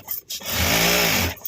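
A sewing machine runs a short burst of stitching through fabric while a return gift is made for the Varalakshmi festival. The whirring run lasts about a second and is close and steady, with faint handling before and after.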